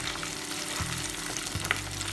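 Curry leaves and four green chillies hit hot oil in a pan, giving a soft, steady frying sizzle with a few brief crackles and spatters.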